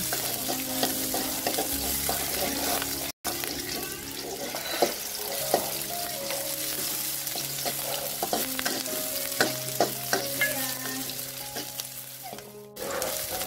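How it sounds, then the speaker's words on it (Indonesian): Shallots and garlic sautéed in a pan for a simple dinner, giving a loud, close sizzle with frequent scraping and clattering spatula strokes and a short break partway, without talk. "Kemudian ini saya masukkan bawang merah dan bawang putihnya ya. Ini kita tumis kembali sampai harum."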